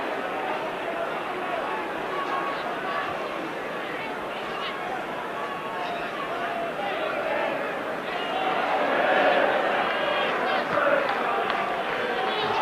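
A football crowd at a Norwich City versus Tottenham Hotspur FA Cup tie applauds Jeremy Goss's substitution, a broad murmur and clapping that swells toward the end under a commentator's voice.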